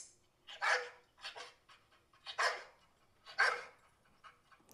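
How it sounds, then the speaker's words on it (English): A boxer dog barks in several deep, gruff bursts with breathy panting between them. The barks come at an uneven rhythm, close and loud, with no talking over them. "A boxer sounds like this."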